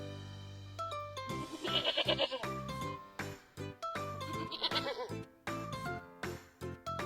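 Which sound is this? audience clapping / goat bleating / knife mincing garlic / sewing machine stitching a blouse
goat bleating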